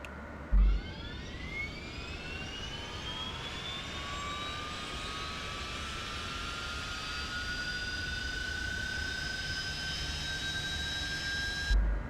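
A HondaJet light business jet's engine spooling up during startup in Microsoft Flight Simulator 2024, a steady broadband roar with a rising whine that climbs in pitch and settles into a sustained high tone, with no talk over it.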